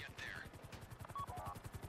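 During the Humane Labs heist finale in GTA V Online, an approaching helicopter gives a fast, steady rotor chop of evenly spaced thumps, with faint game tones and distant shots in the background.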